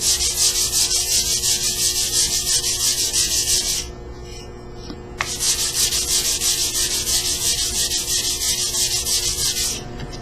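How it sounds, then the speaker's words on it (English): A 120 grit sanding block rubs back and forth over a wooden ticket in a steady, loud, close scratchy rhythm, pausing once briefly before resuming, with no talking. "go straight to 120 grit on a sanding block"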